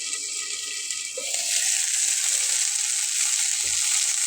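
Salted yardlong beans cook under a lid in a pan with no added water, releasing a loud, continuous sizzling hiss with a couple of soft knocks.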